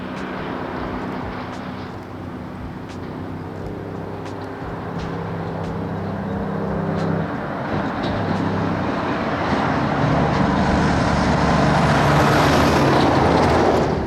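An International RH R8-BT 8x4 truck engine labours up a climb in New Zealand, pulling hard from low revs. It is a deep, continuous diesel drone that slowly swells louder and rises in pitch over the stretch, with road noise mixed in.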